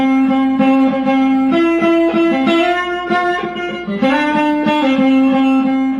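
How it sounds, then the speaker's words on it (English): Two overdriven electric guitar lines play together in harmony, sustaining steady melodic notes that shift pitch together, loud and alone with no talking. "2 guitar parts come in that are in harmony with each other"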